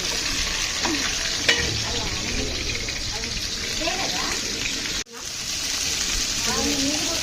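Sliced onions and mint frying in a pan for Telangana bagara rice make a continuous crackling sizzle, with occasional stirring scrapes and a brief cut near the end, while a voice talks faintly underneath.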